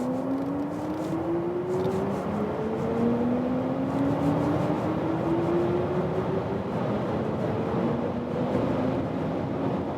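A BMW in sports mode accelerates hard from 100 km/h, a steady cabin drone with slowly rising engine tones climbing through several gear steps, continuous and close with no talk.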